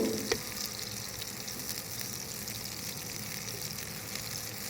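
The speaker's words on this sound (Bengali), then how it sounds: "এবার পেঁয়াজটাকে আমি একটু গোল্ডেন ব্রাউন করে ভেজে নেবো" Onions sizzle and crackle in hot mustard oil with a steady, moderate frying hiss, a single small clink near the start.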